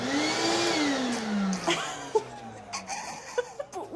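A vacuum cleaner runs inside a van under construction and loses suction. Its motor whines with a rising then falling pitch before cutting down. Quiet chuckles and scattered knocks follow.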